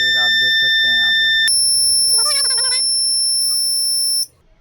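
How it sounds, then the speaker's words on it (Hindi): A 12-volt shutter door siren alarm wired to a Hikvision DVR sounds a loud, steady high-pitched electronic tone for about four seconds before cutting off, with someone talking over it. "यहाँ पे 12 वोल्ट का सायरन लिया हुआ है"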